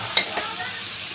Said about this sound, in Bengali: তো এঁচড়টা ভালো করে আমি সব মশলার সাথে কষিয়ে নিয়েছি 2 মিনিট মতো।